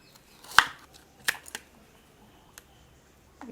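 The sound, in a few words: cutting food with a kitchen gadget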